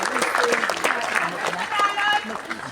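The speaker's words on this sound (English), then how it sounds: "Please give them a huge round of applause." Applause from the crowd at a KTV finals show greets a performing group, clapping and cheering mixed with voices and talk over it, fairly loud and continuous.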